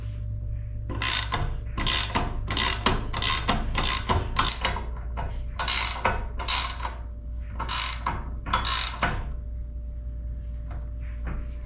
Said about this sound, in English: Now we'll tighten up these control arms.